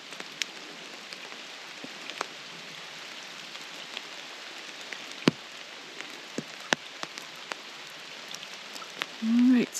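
Steady rain falls in McCalls Dam State Park, a soft continuous hiss scattered with sharp individual drips and taps close by, with no voices over it.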